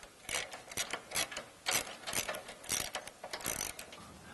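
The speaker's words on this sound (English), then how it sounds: "Now we're going to remove the bolt by the fuel tank by the right rear tire." A socket ratchet works a bolt beside the fuel tank near the right rear tire of a Jeep JL 2.0L four-door, giving bursts of quick clicking in uneven runs, close and clear with no talk.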